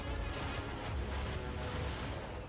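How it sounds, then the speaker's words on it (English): Electromagnetic induction ballistic arrays fire in a sci-fi space combat game, producing a dense, continuous roar of rapid booming shots that stays loud throughout the short burst. "These are high-powered electromagnetic induction ballistic arrays."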